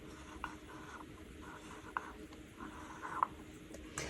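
A pencil writes a short word by hand on paper in a quiet room, giving faint, steady scratching strokes with a few light taps between them.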